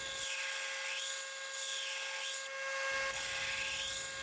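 A steady, high-pitched grinder whine runs nearly unbroken as the bevel on a farrier's rasp knife is ground back toward a full flat grind. The tone shifts slightly partway through.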